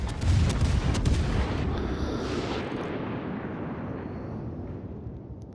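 Naval guns fire from a German cruiser, the Yorck, in World of Warships: a loud, deep boom at the start that rolls into a long, slowly fading rumble, with no talking.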